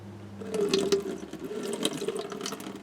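Rain water running and collecting on a ground sheet laid out on the ground at a camp, a steady close trickling wash with scattered splashy spatters, no voices.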